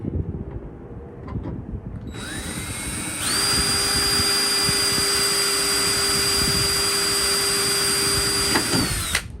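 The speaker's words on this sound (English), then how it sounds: "let's drill through the plastic our pilot holes" A power drill whines steadily at high pitch for several seconds, drilling pilot holes through the plastic of a vintage Motorcraft shop clock, revving up once and holding a loud constant tone before cutting off.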